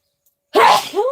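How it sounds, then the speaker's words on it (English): A single sudden, forceful human sneeze, loud and close, breaking out of silence and trailing into a brief voiced exhale. "I've got to sneeze, excuse me."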